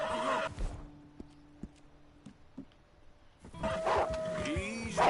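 A white Arabian horse from the video game Red Dead Redemption 2 whinnies loudly at the start and again near the end, with quieter ambient game sounds and faint tonal notes in between.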